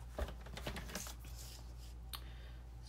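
A new paper trimmer slices cardstock into a 3.5 by 3.5 inch square, giving a few quiet, brief scraping swipes with no voices.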